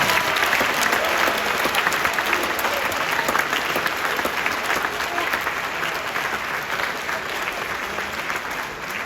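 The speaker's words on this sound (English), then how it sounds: "give yourself a big round of applause for a fantastic song" A crowd at a Wyoming state soccer assembly gives a big round of applause after a song, with dense, loud clapping that holds steady for the whole stretch and tapers only slightly toward the end.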